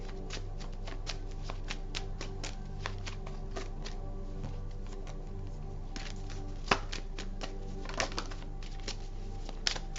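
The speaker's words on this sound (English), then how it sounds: "All these cards flying everywhere." Tarot cards being shuffled in a steady run of quick, papery riffles and flicks, with a few sharper snaps, close but soft over a low constant hum, and no voices.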